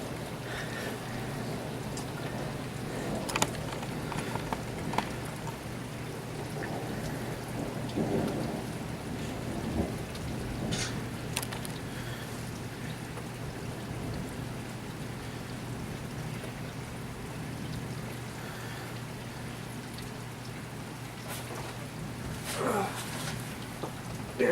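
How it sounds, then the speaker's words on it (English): Steady rain pours throughout a thunderstorm, with several low thunder rumbles rolling in the distance and wind noise, recorded outdoors. "you gotta love the sound of a thunderstorm"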